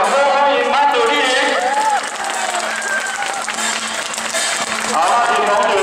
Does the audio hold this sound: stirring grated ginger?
no